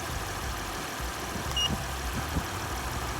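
A car engine held at about 2,000 to 2,500 RPM during a battery load test, a steady mid-to-low mechanical hum with a faint pulsing throb, heard alone without speech.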